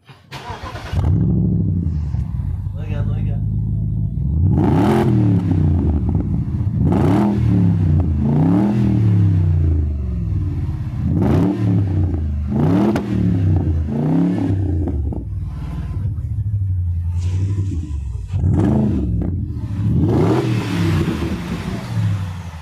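A 4.4-litre twin-turbo V8 revved close to its exhaust, with repeated loud rising-and-falling blips across the whole stretch and a steady rumbling idle between them.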